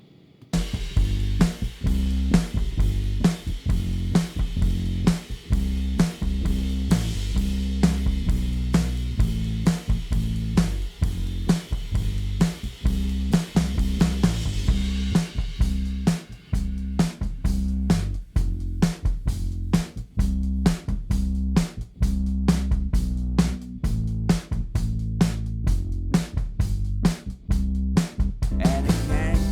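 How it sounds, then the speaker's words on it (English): Bass guitar and drum kit soloed together from a song mix, a loud, steady groove of punchy kicks, crisp snare and hi-hat hits over a sustained low bass line, with the hats growing busier in the second half. "let's just solo the bass and the drums"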